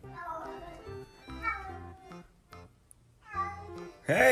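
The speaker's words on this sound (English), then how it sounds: "Literally, what is my cat doing?" A house cat meows repeatedly in short, uneven calls, close and fairly loud, with a person talking over and between the meows.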